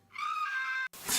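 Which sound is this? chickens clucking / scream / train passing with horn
scream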